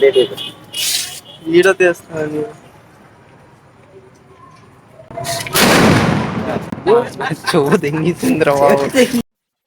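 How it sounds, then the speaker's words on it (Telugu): People talk, then after a quiet pause a loud blast from a homemade paper firecracker bomb bursts out during Diwali, followed by more excited talking. "మనం పేల్చిన బాంబు చాలా గట్టిగా పేలింది ఫ్రెండ్స్ దద్దరిల్లింది"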